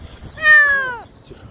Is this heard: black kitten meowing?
yes